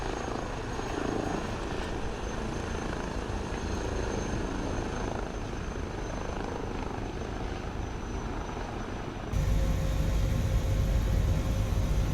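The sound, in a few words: H160 helicopter taking off, from video game Microsoft Flight Simulator 2020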